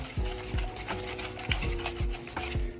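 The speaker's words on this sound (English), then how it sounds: "we're going to go ahead and start this stirring process" A spoon works through sticky pecan pie filling with pecans in a mixing bowl, giving soft repeated scraping and clacking strokes in an uneven rhythm, close by.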